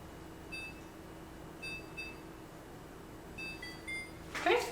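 A kitchen timer being set, giving several short, high electronic beeps in small clusters spread across the stretch, faint against a quiet room, with a brief rustle at the end.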